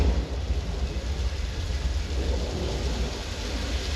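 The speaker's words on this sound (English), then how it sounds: "that rain is actually coming from sprinklers, shooting the water directly up into the air and letting gravity bring it down naturally" Heavy simulated downpour from sprinklers spraying water straight up to fall back down, with thunder played through speakers, rumbling steadily and loudly throughout on a studio backlot tram tour.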